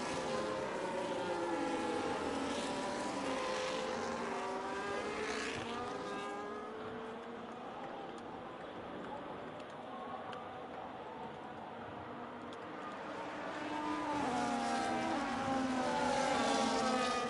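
Race cars roaring past at a safety car restart of the Austrian Grand Prix, engines rising and falling in pitch as they pass, loud and continuous with a quieter lull in the middle.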